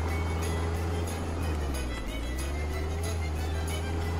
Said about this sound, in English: I can hear the engine smoking, dude!